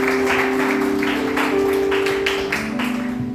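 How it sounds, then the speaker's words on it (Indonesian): Congregation in a church service clapping in praise, a few seconds of moderately loud applause with a steady tonal hum underneath. "Beri tepuk tangan bagi Tuhan."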